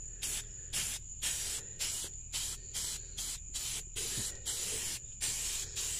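Krylon flat black spray paint hisses from the can onto the kick panels of a 1964 Impala SS in about ten short, evenly spaced bursts, close and sharp, with no talk.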